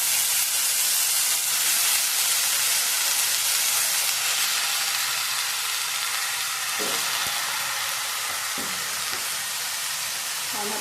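Spring onion greens frying with turmeric and red chili powder in a hot pan, a steady close sizzle and hiss throughout with a couple of soft stirring knocks, no voices.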